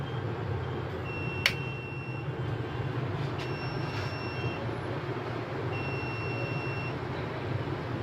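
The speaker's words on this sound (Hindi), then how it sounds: "ये आवाज़ आ रही होगी बजर की।" A UPS board set to 700 watts sounds its overload buzzer, three short, evenly spaced electronic beeps over a steady low mechanical hum, moderately loud and close, with no talking.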